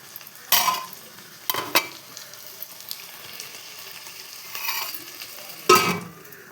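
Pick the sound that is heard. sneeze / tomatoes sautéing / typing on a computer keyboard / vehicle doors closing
tomatoes sautéing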